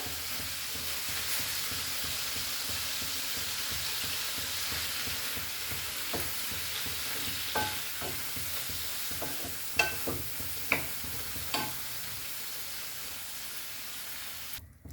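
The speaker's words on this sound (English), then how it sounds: "Now we will add our butter to this." Butter, about two tablespoons, melting in a hot pan for garlic prawns, giving a steady close frying hiss with a few sharp pops toward the end; no one talks.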